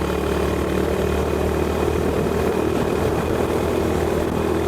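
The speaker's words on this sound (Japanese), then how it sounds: "やっぱり排気音もライダーの右耳の方がよく聞こえますね。" A Honda GB350S single-cylinder motorcycle cruises at 120 km/h on the Shin-Tomei expressway, its exhaust a steady droning hum blended with a constant rush of wind, unbroken from start to finish.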